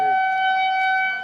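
An outdoor civil defense tornado siren in Omaha during storms, a loud, steady sustained wail filling the moment with a brief voice at the very start.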